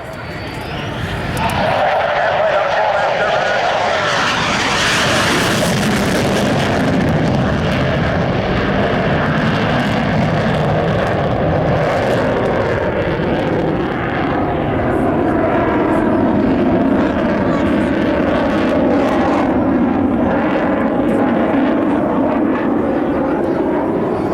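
Military jet at an air show passing low over the runway after a simulated landing, retracting gear and flaps as it accelerates, a loud continuous roar that swells and sweeps past, then rumbles on in the distance.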